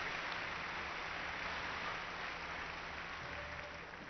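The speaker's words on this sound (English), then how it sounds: "Crowd appreciating the fine work of both those doubles pair" Steady applause from a large arena crowd at a London 2012 Olympic men's doubles badminton match, China against South Africa, a dense even patter sustained throughout at moderate distance with no voices.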